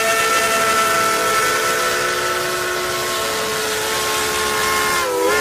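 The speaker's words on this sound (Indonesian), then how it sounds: "ini kereta api uap" A steam locomotive whistle holds one long, loud, steady tone with a hissing edge for the whole stretch, close by and with nothing else over it.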